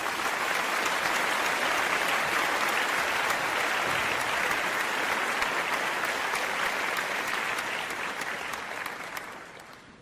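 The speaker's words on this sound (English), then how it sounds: "I'm gonna play the applause." Recorded applause from a large crowd plays as sustained, dense clapping, loud and steady throughout before easing slightly at the very end, with no voices over it.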